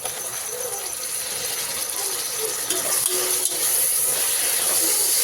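Tomatoes go into a pot of sizzling chicken biryani, giving a steady, bright frying hiss that holds throughout and grows slightly louder toward the end, with faint scraping and no speech.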